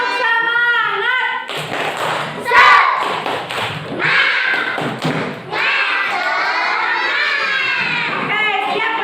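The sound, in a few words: schoolchildren doing the 'tepuk semangat' spirit clap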